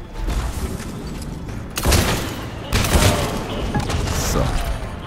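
Bursts of loud gunfire and muffled booms in Mass Effect 3, with a steady rumble of battle noise filling the gaps and a voice faintly beneath.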